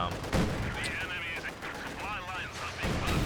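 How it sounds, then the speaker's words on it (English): Rapid Panzerschreck rocket barrage slams into a Soviet T-70 light tank during a Company of Heroes 2 match, with overlapping gunfire and explosions at steady loudness, accompanied by a voice. "T-70 though taking a nasty barrage there by those Panzer Shreks"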